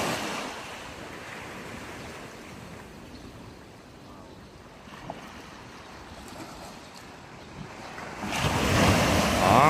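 Ocean surf rolls onto Rizal Beach in Gubat, Sorsogon at sunrise, a steady wash of waves with wind buffeting the microphone, swelling louder near the end as a wave breaks close by.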